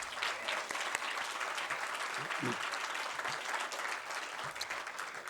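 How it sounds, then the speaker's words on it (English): A round of applause at a community event for Mary Berninger, steady mid-distance clapping from a crowd that stays even throughout, with a brief voice surfacing midway. "Maybe we'll have a little round of applause for Mary"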